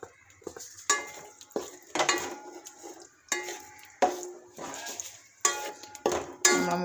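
A spoon stirs pickle in hot oil in a pan before egg goes in, producing a series of sharp metallic scrapes and clinks against the pan, spaced about a second apart, close and clear with no talking.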